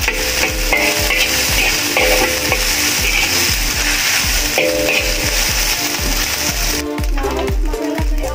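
Fried rice cooks in a pan, giving off a loud continuous sizzle while a utensil stirs and clinks against the pan in a steady, repeating rhythm.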